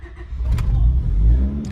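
A 4th-generation Honda Prelude engine starts and settles into a steady, fairly high idle while still a little cold, with a continuous low rumble and brief higher bursts near the start and end.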